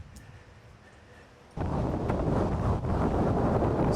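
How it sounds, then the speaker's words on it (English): Strong gusting wind buffets the microphone at an old mile-long bridge from 1929, a low rumble that swells sharply partway through and stays loud and roaring to the end. "Super windy, as you no doubt can hear."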